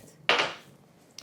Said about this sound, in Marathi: झाकण लावूयात